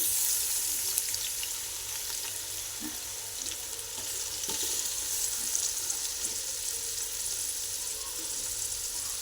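Onions frying in oil in a pan, giving a steady close hiss and crackle that holds evenly throughout with a few faint knocks and no voices.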